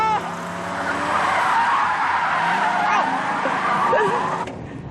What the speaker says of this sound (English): I think this counts as a drift.